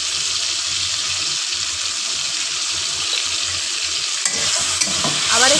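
A fish curry seasoned with turmeric and chili powder sizzles steadily in the pan, a continuous frying hiss with soft stirring scrapes beneath and a few clinks near the end.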